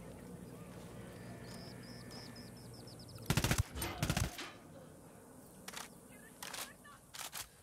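Automatic gunfire from the video game Ghost Recon Wildlands: loud rapid bursts crackle in the middle of the stretch, followed by several shorter, quieter volleys, over a steady game background with faint chirping.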